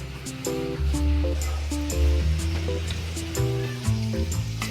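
Asafoetida sizzling in hot oil for a red chilli masala chutney, a steady close frying hiss. A droning tonal hum of background music runs underneath it.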